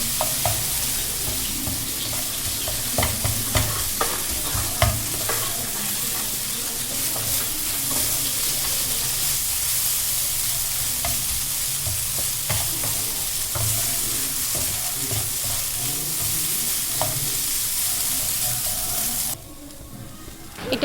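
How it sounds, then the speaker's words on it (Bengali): Oil sizzles steadily in a pan as a utensil stirs and scrapes fried egg together with pasta and other ingredients, with scattered clinks throughout and a brief drop in sizzle near the end. "ডিমটা ভাজা হয়ে গেলে আমি সবগুলো উপকরণ একসাথে মিশিয়ে নেব"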